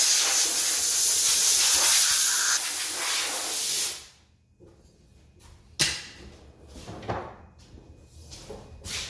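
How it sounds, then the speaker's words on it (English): A compressed air line blows across a stripped Rover car door, a loud continuous hiss for about four seconds that cuts off sharply, followed by a few clunks and knocks as the door is handled. "A little airline on it."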